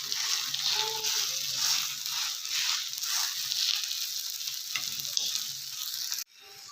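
Uttapam made from leftover dosa batter sizzling on a hot pan, a steady close frying hiss with faint crackles, cutting off abruptly near the end.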